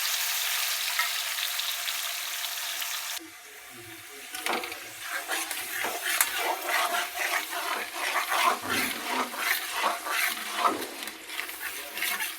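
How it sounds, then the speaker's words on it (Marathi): Biryani masala fries in oil in a pan, first as a bright hiss, then after a short lull as a crackling sizzle broken by repeated scraping stirs. "चांगलं तेलात फ्राय करायचं बघा."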